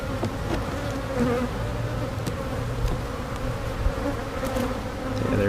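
Honeybees swarm over an open beehive frame with brood and new foundation, a dense steady buzz close up, with individual bees zipping past the microphone now and then.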